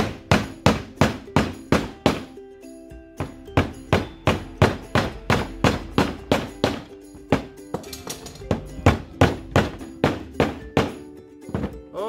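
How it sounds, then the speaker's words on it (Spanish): A hammer drives nails into the base of a planter made from a recycled bucket, with loud, steady, evenly spaced blows repeating for several seconds, close and ringing slightly. "lo que voy a hacer en esta ocasión es ponerle clavo, que igual le va a funcionar"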